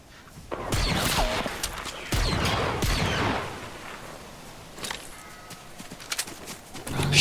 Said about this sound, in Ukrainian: Ото там стрілянина